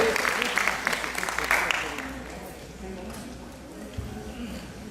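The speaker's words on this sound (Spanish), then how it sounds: "démosle una fuerte bienvenida y un gran aplauso" An audience at a tourism congress applauds to welcome a speaker, with dense clapping that is loudest early on and then thins out to a scattered patter.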